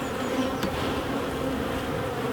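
Honeybees drone steadily inside a double brood box hive, a close, continuous buzz with no pauses and no talking.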